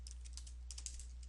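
Rapid light clicking of keys on a computer keyboard while an email is typed, quick irregular taps close by over a low steady hum.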